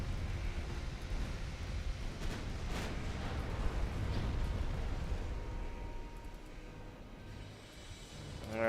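A battleship is destroyed by naval gunfire in the Ultimate Admiral Dreadnoughts naval warfare game, heard as a loud, sustained rumbling of booms and blasts for several seconds that eases off near the end.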